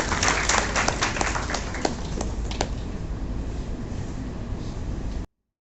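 An audience applauds a student team stepping up in the final round of a tech innovation competition, a steady wash of many hands clapping in a large hall, fairly distant and continuous, then cutting off abruptly.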